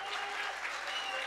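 An audience claps steadily at an All India Mushaira poetry gathering in Malegaon. Dense, even applause fills the whole short stretch without any talk.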